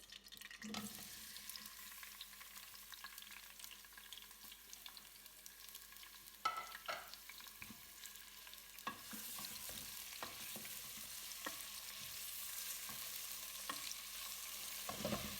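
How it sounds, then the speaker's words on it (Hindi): Onions fry in oil in a pressure cooker, sizzling steadily, with occasional stirring clatter and scraping; the hiss grows slightly louder toward the end. "अब मैंने कुकर में ये ऑयल डाला है और ये प्याज।"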